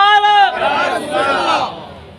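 A large crowd at a Jashn-e-Milad-un-Nabi religious gathering in Proddatur roars a loud collective chant in answer to a Nara-e-Takbeer slogan, opening with a shouted voice before many voices swell together and fade.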